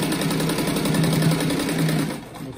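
A sewing machine runs steadily, stitching a seam on a fabric fish-shaped rug with ruffles, a continuous close whirring that slows and fades near the end.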